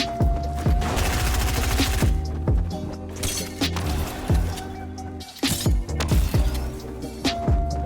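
Gunfire in the Fortnite video game cracks out in rapid bursts and single loud shots, with short pauses between volleys and no speech over them.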